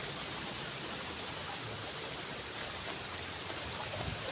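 Swollen mountain river running hard in remote highlands, a constant close roar of rushing water, steady and unbroken, with faint low rumbles underneath and no voices.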